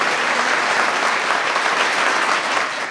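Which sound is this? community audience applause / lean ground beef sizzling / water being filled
community audience applause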